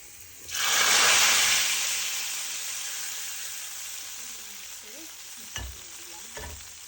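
Garlic frying and being stirred in hot oil to temper khichuri, a loud steady sizzle that swells at once and slowly fades, followed by two brief knocks of a utensil near the end.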